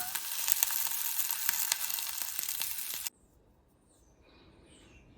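Mock black pudding made from WW2 UK ration ingredients fries in a pan with a loud, close, crackling sizzle that cuts off suddenly partway through, leaving near silence.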